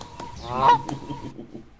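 A single loud goose honk played as a sound effect, a nasal, brassy call lasting about a second, heard alone and close.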